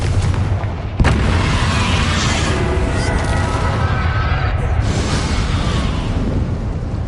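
Bombarda explosion spell in the Hogwarts Legacy video game, a sharp blast followed by a loud, sustained rumbling boom with crackling debris over game ambience.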